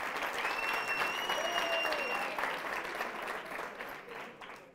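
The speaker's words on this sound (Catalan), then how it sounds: "Molt bé, aplaudim, aplaudim." Studio audience applause on a TV quiz show, a steady sustained wash of clapping that fades slightly toward the end, with a few faint tonal sounds over it.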